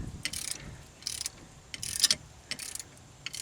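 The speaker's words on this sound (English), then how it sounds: "Top one had to get the old trusty black pipe, and we're just now getting it loose." Ratcheting and creaking of a car strut bolt being loosened with a long black pipe as a breaker bar on a Pontiac Aztek, coming in several short bursts of clicking and grinding close by, with no talking.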